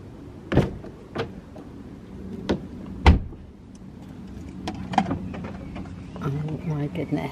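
A new car at the outset of its first drive: several sharp door or latch thuds, then low interior rumble and small mechanical clicks, with voices talking.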